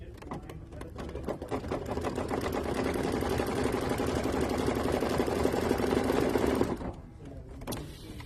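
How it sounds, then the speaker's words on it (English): Running steadily for several seconds, a sewing machine stitches a watermelon shaker key chain closed with a close, even rapid whir before stopping abruptly, followed by a brief faint clatter. "now we're just going to put this back on the machine and it's going to stitch"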